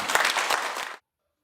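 A student ceremony audience breaks into applause, a dense burst of many hands clapping that cuts off abruptly after about a second into silence.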